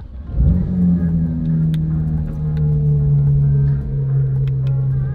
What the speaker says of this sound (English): we're gonna jump in the 992 GT3 real quick and head down as fast as possible